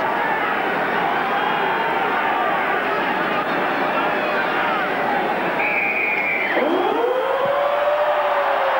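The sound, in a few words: stadium siren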